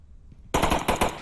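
Gunfire in the VR shooter game Onward during a competitive match headshot: silence, then a sharp burst of about four rapid automatic shots, loud and close.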